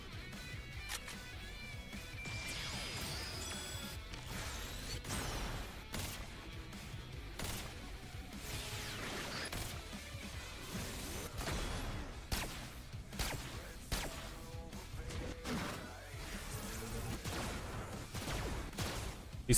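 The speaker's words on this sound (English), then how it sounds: "I don't have like a gunfire sound effect." Game gunfire sound effects auditioned in a run of varied shots, sharp bangs, bursts and whooshy hits following one another quickly and fairly quietly, with no voice over them.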